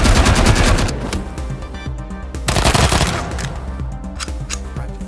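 Loud automatic gunfire from the Wasteland 3 video game, with dense rapid bursts at the start and again in the middle, fading into scattered shots between them and no voices.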